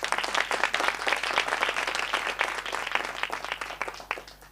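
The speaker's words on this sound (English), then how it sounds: "Give a round of applause to him." An audience at a law firm's long service awards ceremony applauds in a steady burst of many hands clapping, moderately loud and continuous throughout, with faint room hum beneath.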